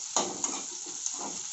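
Chopped onions and small pieces of potato fry in a pan for a dry potato-capsicum dish, giving a steady broadband sizzle with a few light clinks of stirring, close and alone without any talk.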